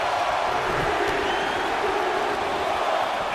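A wrestling arena crowd at a Royal Rumble roars steadily without a break, a dense wash of voices filling the hall from start to finish, with no separate count clearly standing out.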